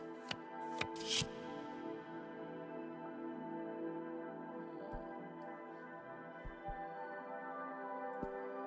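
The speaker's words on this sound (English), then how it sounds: "Focus on your training as a jade sculptor and on your desires as witch while I shuffle my deck." A tarot deck shuffled in the video game Cosmic Wheel Sisterhood, with a few sharp card snaps at the start, then a soft riffle and scattered light taps over a sustained musical drone.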